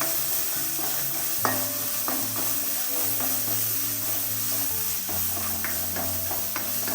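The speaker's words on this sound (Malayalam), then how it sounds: "ക്യാരറ്റ് ഒന്ന് ഫ്രൈ ആയി വെക്കാം." Carrots sizzle and fry in a pan for rava kesari, a spoon or spatula scraping and stirring through them in irregular strokes over a steady close hiss.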